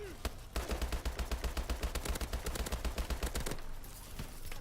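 Rapid automatic gunfire in the Exo Survival game mode, a dense continuous burst of shots for several seconds with a heavy low boom at the start, loud and close with little pause.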